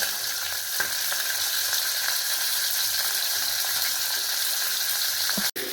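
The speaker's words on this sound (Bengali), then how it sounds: "দেখো মাছটা এক পিঠ ভাজা হয়ে গেছে" Fish fried in a pan with salt sprinkled on, giving a steady, dense sizzle that holds even throughout, close by, with one sharp knock near the end.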